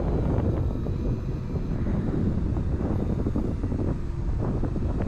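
Heavy wind roaring and buffeting over the microphone of a de Havilland Beaver bush plane in flight, a dense, continuous rumble masking the engine, with no voices.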